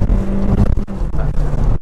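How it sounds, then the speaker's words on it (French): A Volkswagen Polo GT engine of about 180 horsepower revs hard and loudly up close, with two sustained howling pulls split by a brief dip in between. "on entend bien le moteur hurler"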